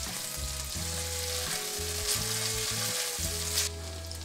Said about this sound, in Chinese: 煸香之后加上番茄酱适量